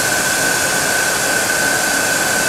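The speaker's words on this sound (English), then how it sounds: "you're going to want to have the thermostat in the house turned up so that the boiler runs continuously" An AA220 oil boiler burner runs at high fire, producing a loud, steady roar with a constant tonal hum and no variation or talking.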